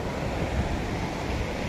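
Rough sea surf at Digha beach roars as a steady, loud broadband wash with wind buffeting the microphone, no voices heard.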